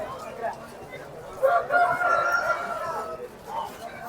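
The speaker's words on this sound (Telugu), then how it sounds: "మంచి మంచి పుంజులు అయితే ఉన్నాయి ఇప్పుడు" A rooster crows in a long drawn-out call over a noisy outdoor crowd at a rooster market, with other fowl faintly audible in the background.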